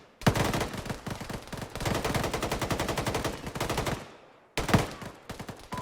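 Heavy gunfire in the military simulation game Arma, with dense rapid bursts of automatic fire crackling almost continuously, a brief pause, then more close, loud shots.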